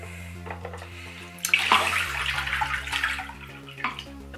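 Tap water runs in a final rinse of freshly developed film from a basic 1950 Kinax Baby camera, a close, splashy pour over a low steady hum. The flow swells and then trails off.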